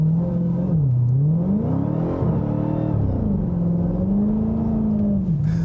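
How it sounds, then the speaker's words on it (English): Supercharged V8 of a 2018 Dodge Challenger SRT Hellcat Widebody held at high revs during a burnout, a loud continuous roar with rising and falling engine pitch over tire rumble, close and without speech. "Just because I had to, just one more burnout."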